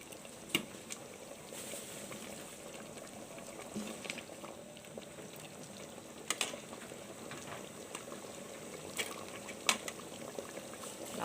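A pot of tao jiao (fermented soybean) sauce with sliced shallots bubbles at a gentle boil, giving a soft continuous burble with scattered pops and small clinks, close and quiet, without talk.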